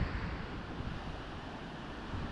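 A deep, fast mountain river rushes and roars along a cycling route to Ladakh, a dense, steady broadband churn close by with no voices over it.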